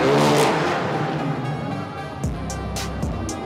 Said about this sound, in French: Les moteurs sont amplifiés, les pots d'échappement trafiqués.